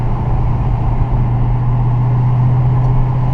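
A manual Dodge Challenger Hellcat's engine drones steadily with a constant tonal supercharger whine riding over the low rumble, loud and close throughout.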